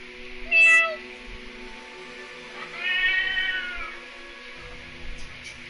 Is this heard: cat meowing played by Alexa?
yes